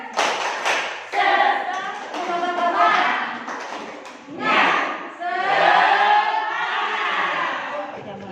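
A group of teachers at a teacher-training workshop performs the tepuk semangat clapping chant: rhythmic bursts of unison clapping mixed with chanted voices, in short energetic phrases with brief pauses between them, close and fairly loud.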